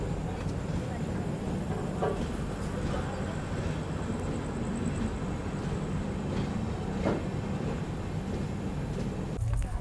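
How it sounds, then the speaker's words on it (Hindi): The Donyi Polo Express pulls out of Harmuti Junction, a steady rolling rumble with occasional clicks over the rails, heard from on board, with a voice talking over it. "निकल गई अपनी ट्रेन जो है हारमती जंक्शन रेलवे स्टेशन से।"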